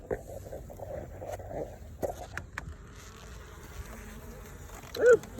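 Honeybees around backyard beehives in the morning, a faint, steady insect buzz with scattered close bee fly-bys and small handling noises.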